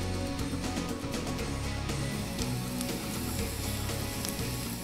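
Chopped onions, green capsicum and garlic sauté in a hot pan for a vegetarian bunny chow, giving a steady, close sizzle and crackle that holds at an even level throughout with no voices.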